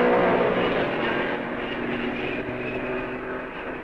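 1955 Mercedes Formula 1 race cars roar past at the Belgian Grand Prix, a loud broad engine drone that is strongest at the start and fades steadily as they pull away.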